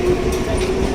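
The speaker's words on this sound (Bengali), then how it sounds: "এই যে আমরা নেমে গেছি দেখো ট্রেন চলে যাচ্ছে" A train pulling out of a station, with a steady broadband rumble and a faint hum heard from close by on the platform.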